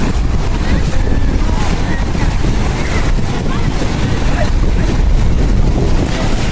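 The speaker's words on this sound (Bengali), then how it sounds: "প্রচুর পরিমাণের ঢেউ, প্রচুর পরিমাণের ঢেউ, বলার বাইরে।" Sea waves roll in at Cox's Bazar beach, a loud, continuous roar of surf with strong wind buffeting the microphone, steady and close throughout.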